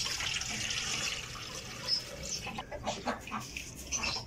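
Water poured or running into a container set out for chickens, a continuous splashing gurgle that turns choppier and more uneven in the second half.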